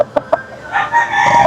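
A gamecock bullstag, a fighting rooster kept for sparring or breeding, crows loudly and close up, preceded by two short sharp clucks, then a long strained crow that fills the rest.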